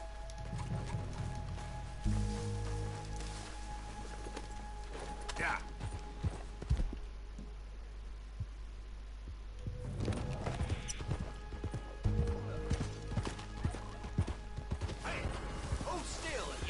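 Horse hooves clip-clopping in the Western video game Red Dead Redemption 2, a steady rhythmic run of hoofbeats with a few heavier thuds and clatters, while a person talks over parts of it.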